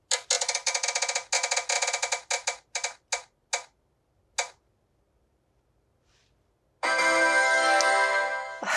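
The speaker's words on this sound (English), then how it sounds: "now we have to spin our nightmare wheel" A prize wheel spun to pick nightmare-themed choices gives a rapid run of loud ticks that slows and spaces out before stopping, followed by a burst of bright, sustained noise.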